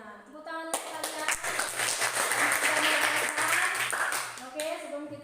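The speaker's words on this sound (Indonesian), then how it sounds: "Tepuk tangan untuk kalian." Classroom of students applauding together, a burst of dense clapping that swells and fades over a few seconds after a teacher's voice.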